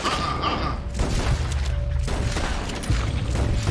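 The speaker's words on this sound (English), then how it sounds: "Keep shooting, man. Keep emptying. Empty this clip, man." Rapid, loud gunfire in Red Dead Redemption 2, a steady run of overlapping shots and booms with no pause across the whole stretch.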